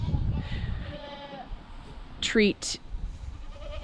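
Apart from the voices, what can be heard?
goat bleating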